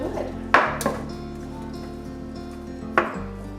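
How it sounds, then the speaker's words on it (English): A utensil scrapes and knocks against a pan while seasoned sausage is broken up to brown for a Southern breakfast casserole, giving a few sharp clacks over a steady sizzle. "I'm just going to be loosening up this sausage here, and I'm going to let it cook"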